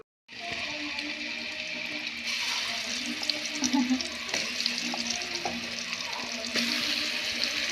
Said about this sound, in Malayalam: നമ്മൾ ഇനി ആ മീൻ എണ്ണക്കകത്തിട്ട് വറുത്തെടുക്കാൻ പോവുകയാണ്.